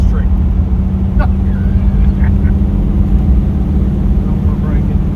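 Steady low engine rumble and road noise from inside a moving 1947 Ford Deluxe, with a constant hum throughout and a few faint rattles over the drone.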